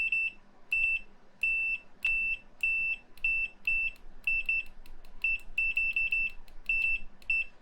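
A Mustool MDS8207 scopemeter in continuity mode gives a run of sharp, high electronic beeps, some short and some longer, as the probes make and break contact. No one speaks over them.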